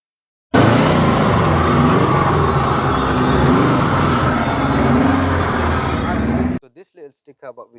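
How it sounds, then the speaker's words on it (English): Imported Subaru WRX engine idling roughly just after a cold start, a loud steady broadband rumble running for about six seconds, then cutting off as a person begins talking. "we've got the Subaru started. It's not sounding very healthy."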